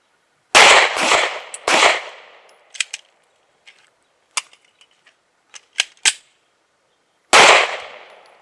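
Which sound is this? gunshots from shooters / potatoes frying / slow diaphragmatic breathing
gunshots from shooters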